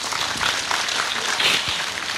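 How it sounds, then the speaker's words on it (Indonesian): Crowd applause at an evening Islamic sermon gathering in Ngawi, a dense steady wash of clapping from a large audience, held at an even level throughout. "tepuk tangan kagem Mbah Kung"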